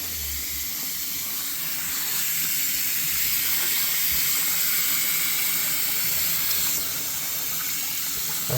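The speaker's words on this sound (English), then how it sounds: "We're gonna rinse this off a little bit." Steady running water from a tap pours over something being rinsed off, a continuous close hiss that stays even throughout with no voices.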